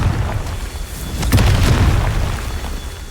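A Confringo fire spell from Hogwarts Legacy bursts as a single loud explosive boom, with a sharp crack and then a rumbling tail over a low background hum.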